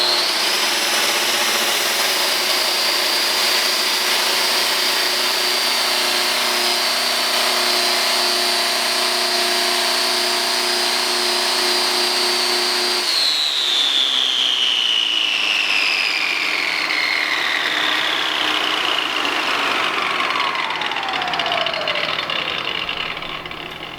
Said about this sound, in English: I'm going to turn on both my vacuum motors.